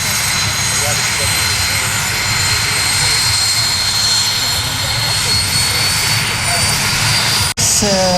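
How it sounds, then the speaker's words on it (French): A steady, loud propeller engine of an aerobatic airplane at an air show drones throughout, with a brief cutout near the end before the roar resumes. "Reviennent donc avec son avion de voltige"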